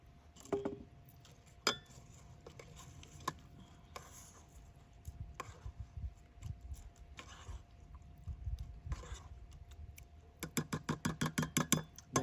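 Spoon stirring Mexican rice with jalapeno peppers inside a rice maker, a series of light scraping clicks and clinks, with a rapid run of sharper taps toward the end.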